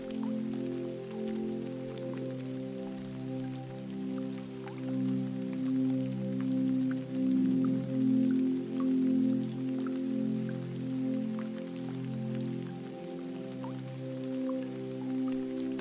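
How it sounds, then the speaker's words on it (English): Steady rain patters softly at night, a fine continuous texture of drops beneath sustained, slowly shifting droning tones. "The rain keeps singing, a patient hush that threads the night from horizon to horizon."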